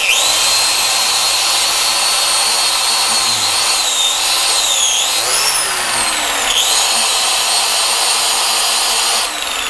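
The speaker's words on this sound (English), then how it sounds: "we're gonna set this on down inside the bore there, and we're gonna start polishing out" A power tool polishes out the bore of a brazed part, a loud continuous high-pitched whine that wavers in pitch as the tool loads and unloads against the metal, with no talk over it.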